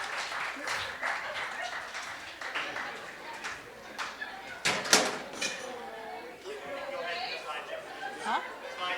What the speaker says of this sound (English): Another round of applause for the Junior Jazz Band